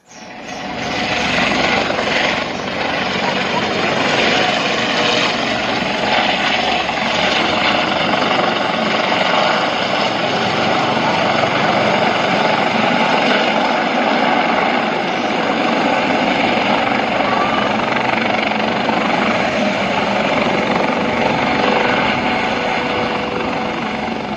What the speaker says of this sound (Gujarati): હવે મુખ્યમંત્રી હેલિકોપ્ટર દ્વારા નીચે આવે છે